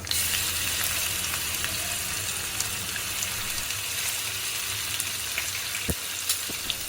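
Continuous loud sizzle of a ground spice paste frying in hot oil in a pan, with a few faint clinks and scrapes over the hiss.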